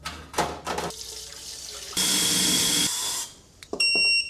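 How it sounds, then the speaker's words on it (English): A parts washer runs a steady stream of water over Ford Escort brake calipers in a workshop, with a rushing flow that starts and stops and a few metallic clanks and high tonal beeps near the end. "I'm just going to give them a quick pass in the parts washer"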